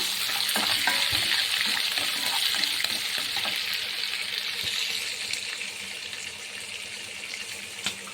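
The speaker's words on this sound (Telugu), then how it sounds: "పసుపును ఉప్పు వేసి వేస్తున్నాను రొయ్యల్ని" Prawns coated in turmeric and salt fry in a pan with a strong, continuous close sizzle that slowly softens over the seconds. Occasional light stirring clicks sound through it, and no one talks.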